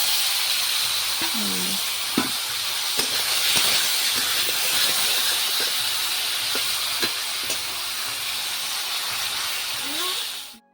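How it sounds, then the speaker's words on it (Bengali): A steady, loud sizzling hiss of round slices of potato and bitter gourd frying in oil runs throughout, with occasional faint clinks of utensils. "গোল গোল করে পিসকরলা ভাজা দিয়ে দিই সব একসঙ্গে"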